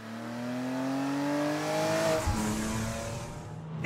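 A second-generation BMW Z4 sports car, a 2011 model offered with 2.5 or 3-litre engines, revs hard with a rising engine pitch that climbs steadily, then drops off with a thump, loud and close with no talking.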